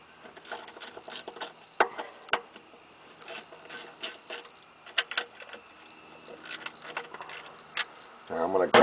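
A hand ratchet fitted with a 1/4 inch deep well socket backs out 10mm bolts holding a bracket during intake manifold work on a 1997 Ford Crown Victoria CVPI, giving close, quick clicking runs in bursts, with a heavier clunk near the end.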